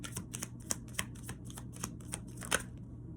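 Tarot cards being shuffled by hand in quick, rhythmic riffling bursts, close and fairly quiet, with a slightly sharper snap near the end.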